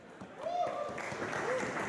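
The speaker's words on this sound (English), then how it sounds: "As this East Greenwich crowd shows their appreciation" A crowd in East Greenwich applauds at a women's wrestling match, a steady wash of clapping and cheering beneath commentators talking over it.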